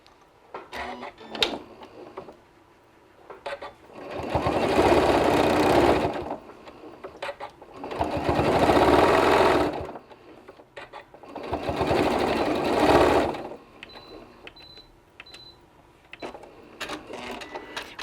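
A sewing machine stitches fabric for an ice cream cozy in three steady whirring bursts of several seconds each, with quiet handling clicks and pauses between runs.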